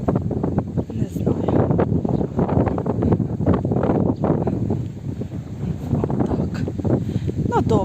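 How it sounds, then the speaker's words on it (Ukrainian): Steady strong wind buffets the microphone throughout, a continuous loud roar with gusty swells, and a voice talks faintly beneath it, outdoors on a village road. "Сьогодні вітерець якийсь такий сильний"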